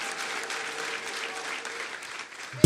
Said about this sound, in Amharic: ለጌታ ክብር አጨብጭቡ እስቲ።